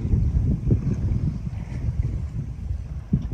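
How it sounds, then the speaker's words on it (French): A light northeast breeze of about 12 to 15 knots blows across a sailboat at sea off Turkey, heard as steady low wind rumble and buffeting against the microphone, with faint water movement beneath. "petit air du nord-est s'est levé, ce n'était pas prévu"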